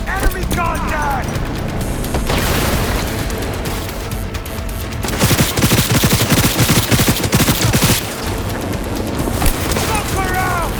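Sustained gunfire rattles through a Cyberpunk 2077 firefight, with loud, dense bursts of rapid shots and booms alongside shouting voices.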